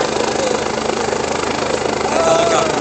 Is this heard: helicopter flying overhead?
yes